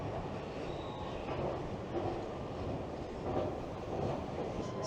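Train at a Scottish railway station, a steady broadband rumble of rail noise with faint wheel squeal, holding at a constant moderate level throughout with no talk.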